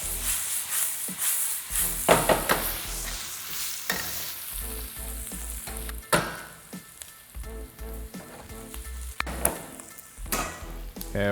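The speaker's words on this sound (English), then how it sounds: "my onions are about halfway cooked. I'm gonna add in my garlic" Onions and garlic sizzle in hot oil in a pan, a steady frying hiss broken by the scrape and clatter of stirring, with a few louder stirs standing out.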